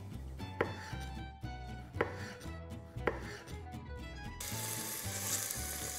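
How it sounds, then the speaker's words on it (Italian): Knife chopping cherry tomatoes on a board while preparing Neapolitan octopus, several distinct sharp knocks spaced about a second apart over a continuous sizzle of frying in a pan, close and clear. "Intanto mi taglio due pomodorini."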